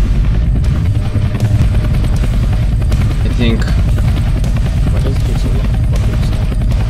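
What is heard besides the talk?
helicopter in the video game Roblox Entry Point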